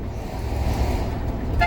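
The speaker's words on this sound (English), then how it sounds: "It's not actually an air horn, it's an electric air horn" Electric air horn on a 2003 Safari Trek motorhome, sounded briefly near the end while driving, a short loud tonal blast over steady road and engine rumble.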